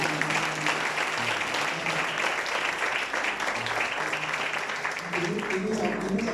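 A church congregation claps and cheers together in sustained, dense applause that carries on steadily, with voices mixed into the crowd noise.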